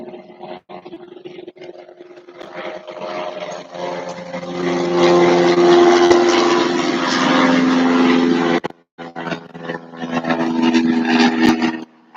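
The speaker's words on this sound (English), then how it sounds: "There's a plane gonna go over in about a couple seconds here, so it's gonna get loud." Propeller airplane passing overhead outdoors, a broad engine drone that swells loud and steady for several seconds, cuts out briefly, then returns at similar strength.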